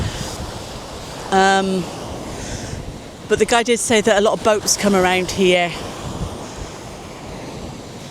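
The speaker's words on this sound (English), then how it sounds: "Sorry if it's windy." Gusty wind buffets the microphone over a low rush of surf on a quiet beach in Boracay, Philippines, while a person speaks briefly in the middle.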